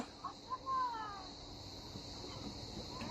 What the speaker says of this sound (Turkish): Aa bir tane kedi gördük sanki.